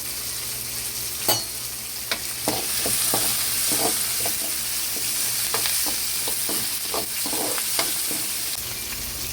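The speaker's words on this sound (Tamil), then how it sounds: "வெங்காயமும் பூண்டு நல்லா வந்து செவந்து வரட்டும். அது வரைக்கும் நல்லா வதக்கி விட்டுக்கலாம். இப்போ வந்து கருவேப்பிலை சேர்த்துக்கலாம்." Onions, garlic and curry leaves sizzle steadily in a hot pan while a spoon scrapes and stirs in irregular strokes. The frying hiss runs throughout and the stirring clicks sit close and clear, with no voices.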